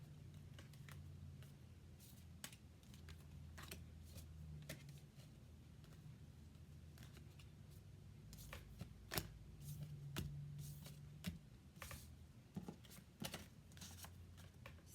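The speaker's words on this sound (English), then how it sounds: "Sorry, I'm trying to gather up the cards so I can shuffle them." Playing cards are slid and tapped together in a quick, close-up shuffle of light clicks and rustles, with no talking.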